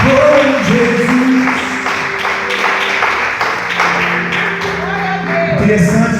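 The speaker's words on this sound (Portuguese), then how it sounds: "As palmas exaltam o Senhor." A church congregation claps in praise, a dense continuous wash of applause mixed with sustained singing or music tones throughout.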